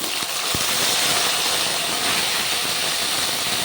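Cut okra drops into hot oil with spice tempering and sizzles loudly and steadily, a dense continuous hiss with a sharp crackle at the start, close and with no other sounds.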